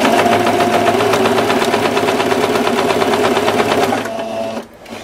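A sewing machine stitches a fabric placemat in a fast, even, clattering rhythm close by, running steadily for about four seconds before slowing and stopping.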